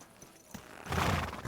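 A horse in Kingdom Come: Deliverance II moves quietly at first, then a loud, close whinny bursts out in the second half.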